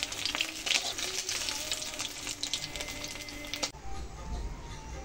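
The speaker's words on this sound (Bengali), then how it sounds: "মাছগুলোকে আমি প্রথমে ভালো করে কড়া করে ভেজে নিচ্ছি।" Pieces of fish frying crisp in hot oil in a wok, a steady close sizzle and crackle that runs unbroken, then drops to a softer bubbling near the end.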